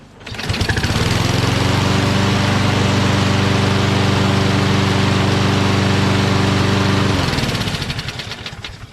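A Toro Recycler XT675 front self-propelled lawn mower with a Kohler engine starts up and runs loud and steady nearby for several seconds, then winds down and stops.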